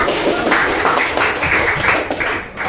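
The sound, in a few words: classroom applause for a classmate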